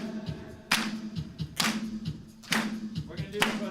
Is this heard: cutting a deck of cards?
no